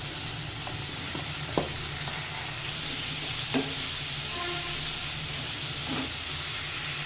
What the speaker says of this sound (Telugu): ఇందులో గుడ్లు వేయించేసుకోవాలి వేసుకొని తీసేస్తున్నాను